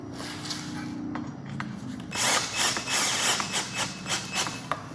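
A power tool drives bolts while a tail rack is fitted to a 2021 KLX300 motorcycle. Short whirring bursts come first, then a louder stretch of rough, pulsing spinning close by.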